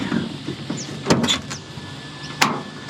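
A van's sliding door on a campervan rolls and thuds shut, a few short clunks and a sliding rumble at close range with no talk over it.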